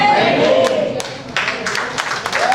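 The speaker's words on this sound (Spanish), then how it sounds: "Aplaudan y tengan que aplaudir" Church congregation applauding during a Spanish-language Sunday worship service, a dense continuous wash of clapping filling the room, with a preacher's voice rising over it.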